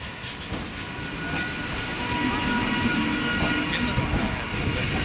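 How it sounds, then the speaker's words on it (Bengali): A local train rolls beneath a bridge at Babu Ghat, Kolkata, a steady rumbling roar with rattling wagons sustained throughout and growing slightly louder. "এই যে ব্রিজের নিচে থেকে যাচ্ছে ট্রেনটি"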